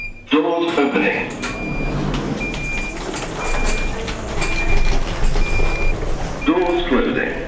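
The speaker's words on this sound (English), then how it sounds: "Doors opening." Doors on a Great Western Railway train open at a platform, with hissing and rattling mechanism noise and intermittent electronic beeps, framed by a voice announcement at the start and end.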